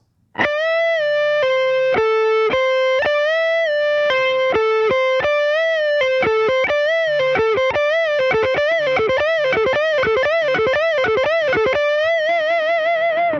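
An electric guitar plays a repeating lick of string bends and pull-offs, notes sliding up and down in a steady circular pattern, clear and sustained with no talk.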